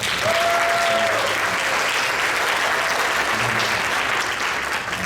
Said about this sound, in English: So round of applause for the trombone.